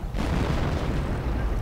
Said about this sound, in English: That was an awfully close artillery barrage right there.